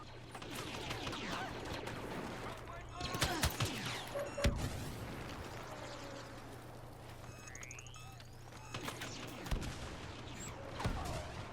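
Rapid blaster gunfire from the Star Wars Battlefront video game crackles in sharp bursts and single shots over a steady background drone, with a rising electronic whoosh partway through.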